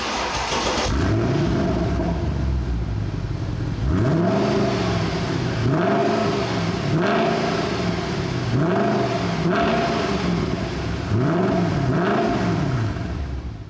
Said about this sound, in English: this V8 makes a serious sound. Take a listen to a couple of revs